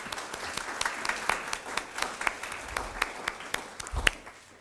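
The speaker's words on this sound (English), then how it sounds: "I would like to give a round of applause to the teaching faculty who are with us tonight" An audience at an award reception applauds, with dense, steady clapping from a room full of people and sharper individual claps standing out throughout.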